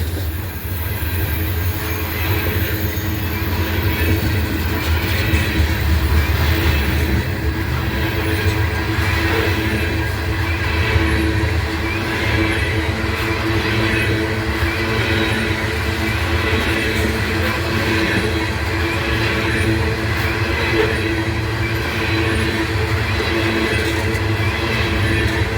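A GE ES44AA diesel locomotive hauls a freight train past at Abbeville, with a steady rumbling engine drone and continuous rolling wheel noise throughout.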